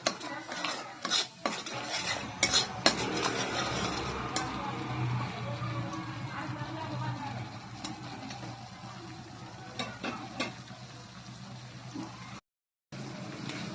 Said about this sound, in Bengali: এটাকে আগে কষিয়ে নেব তারপরে নুনটা পরে অ্যাড করে দেবো মশলাটা একটুখানি কষানো হোক